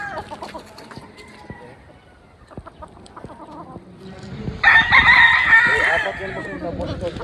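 Boston cross stags at a game farm, with a loud rooster crow in the second half and clucks and rustling before it. Someone speaks faintly in the background.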